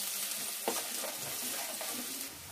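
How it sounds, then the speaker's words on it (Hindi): Onions fry in hot oil for an egg curry, giving a loud, steady close sizzle with a few stirring scrapes and no talking. "हमारा तेल गर्म हो चुका है। अब हम इसमें सबसे पहले प्याज डालेंगे।"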